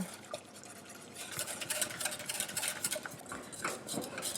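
Steady scraping and stirring of a whisk through thick polenta in a saucepan, with soft liquid swishes running throughout at a close, moderate level.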